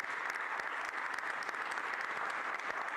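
Sustained applause from an audience at a Philadelphia civic announcement on revitalizing the Market East corridor, a steady, moderately distant wash of many hands clapping throughout, with no talk over it.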